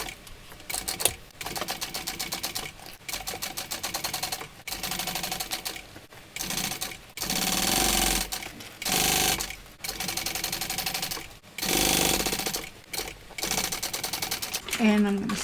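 A sewing machine top stitches a vinyl tote bag in repeated bursts of rapid, close mechanical stitching separated by short pauses, with talking heard between and under the runs.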